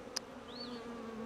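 Honeybees drone steadily around an open hive during a July hive inspection, a close, low, continuous buzz over a short stretch, with a brief click near the start and no speech.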